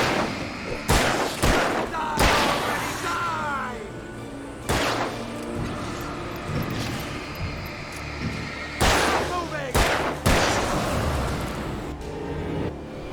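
Repeated gunshots ring out in the PC video game Alan Wake, a string of sharp, loud bursts spaced irregularly over tense background sounds, with occasional voices in between.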